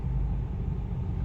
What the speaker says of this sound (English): This thing, you can hear bumps, it shakes.